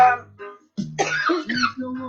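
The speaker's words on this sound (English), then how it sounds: "you hear that cough? It's not corona. It's ganja cough." A single person coughs harshly a few times in quick succession, close and dry, with some throat clearing between the bursts.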